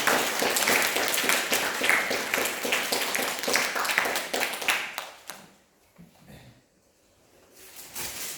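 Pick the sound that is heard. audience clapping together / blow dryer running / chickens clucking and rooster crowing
audience clapping together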